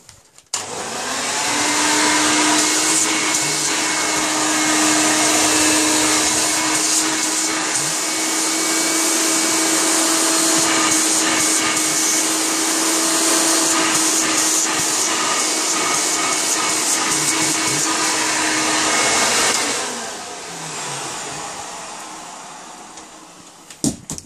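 A 1988 Hoover Elite 350 upright vacuum cleaner runs steadily for about eighteen seconds with a loud, constant motor whine and airflow hiss, then winds down near the end.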